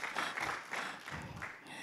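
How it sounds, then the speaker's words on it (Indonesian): A church congregation claps at a Sunday service, a brief, moderately quiet burst of scattered hand claps with a rough, uneven rhythm. "Tepuk tangan dulu."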